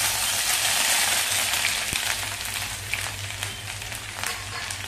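Grated ginger dropped into hot oil with cumin seeds, a steady crackling sizzle that is loud at first and slowly settles, with faint scattered pops and no talking.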